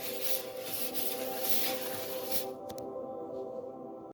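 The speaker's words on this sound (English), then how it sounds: "Scrubber, and I'm gonna scrub." A scrubber rubbed steadily across a stove surface in a close, continuous scraping rasp, broken by a short pause near the end.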